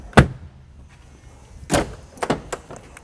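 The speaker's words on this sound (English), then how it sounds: "And these doors, slam these ones." Doors of a 1983 Mercedes 300TD turbo diesel wagon slam shut in several solid, heavy thuds: one, then a pause, then a quick cluster of three, close and loud.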